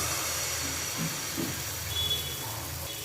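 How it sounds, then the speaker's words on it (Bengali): A spoonful of patishapta pitha batter hits a hot, oil-brushed kadai and hisses steadily, a continuous close sizzle with no voices. "কড়াই গরম হয়ে গেছে এবার এক চামচ ব্যাটার দিয়ে দেব"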